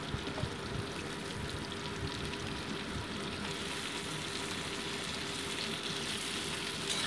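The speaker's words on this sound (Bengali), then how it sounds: "এই আলুটাকেও হালকা ভেজে নিচ্ছি।" Potato pieces fry in a pan, giving a steady, close crackling sizzle that continues evenly without any talking.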